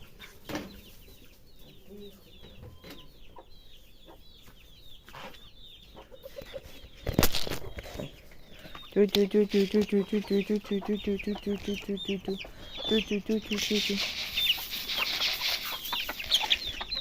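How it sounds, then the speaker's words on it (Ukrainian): Chickens and chicks cluck and chatter in rapid, repeated bursts while being fed, with a busy stretch of loud clucking midway, plus a few sharp knocks and some flapping. "Зараз я вам покажу, як я годую кури"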